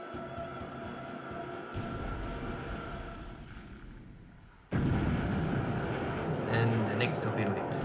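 Torpedo hits explode in the Pacific War naval strategy game Pacific: AE as ships of an amphibious assault group are struck, a sustained rumbling blast that jumps abruptly louder midway and rolls on, dense and heavy, with no talk over it.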